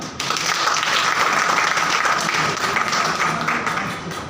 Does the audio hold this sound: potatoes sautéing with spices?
no